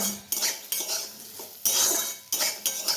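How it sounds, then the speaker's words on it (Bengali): A metal spatula scrapes and clinks against a wok as sliced bitter gourd fries, in several sharp bursts of stirring close by, with little audible sizzle underneath. "এখানে করছি উচ্ছে ভাজা"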